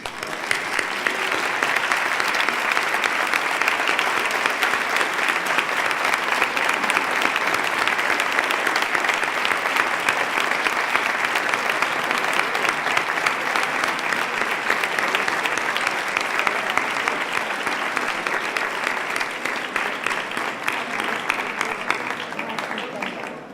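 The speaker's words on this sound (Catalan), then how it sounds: "els hi feu un fort aplaudiment com a agraïment del seu esforç i ajut durant aquesta carrera" Sustained applause from a large audience at a university psychology faculty graduation ceremony, a dense, even wash of clapping lasting over twenty seconds and tapering slightly toward the end.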